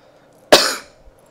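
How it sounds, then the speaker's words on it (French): A single sharp cough, close and loud, breaks out abruptly and fades over about a quarter second in an otherwise quiet moment. "Ah, je tousse."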